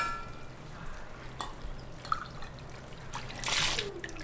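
Water poured from a glass into a cooking pot for a large batch of rice, a soft close trickle and splash with a louder gush near the end, no talk over it.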